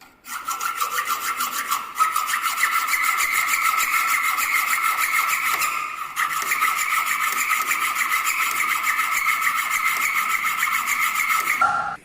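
Hand saw cutting through a metal workpiece at a bench in a fitting workshop, a steady, loud rasping stroke rhythm that runs almost continuously with two brief pauses, close up and with no voices.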